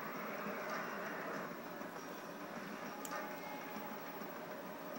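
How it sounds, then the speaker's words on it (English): A train stands ready to depart in Sonic Adventure DX, giving a low, steady rumbling hum with a faint mechanical clatter and a brief high chime partway through, all at moderate level with no talk. "The train headed for Station Square will be departing soon."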